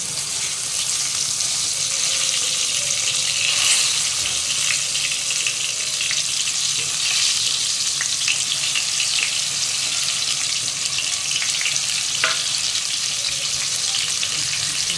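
Brinjals (eggplants) frying in a pan with cumin seeds, giving a steady close sizzle with a few faint clinks and no talking.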